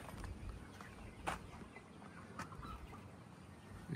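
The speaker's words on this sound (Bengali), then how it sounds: "মুরগিগুলো খেলাইতেছে" Chickens in a yard beside a rice field give a couple of brief, soft clucks against a quiet, steady outdoor background.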